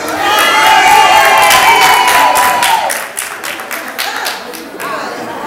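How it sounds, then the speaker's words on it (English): Lively crowd cheering and applause at a 60th birthday party, loud whoops and shouts with children's voices over clapping, peaking early then settling into scattered claps and calls. "Can you get a round of applause for baby brother Javon?"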